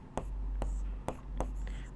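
Chalk or marker strokes on a classroom board during a maths lesson, four short distinct scratchy taps spaced roughly evenly, close and fairly quiet, with no talking over them.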